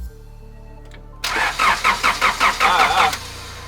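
Engine of a turbo Honda Civic being cranked, a loud close rhythmic whirr of about eight starter pulses over two seconds that never catches, after a quiet start with faint background noise.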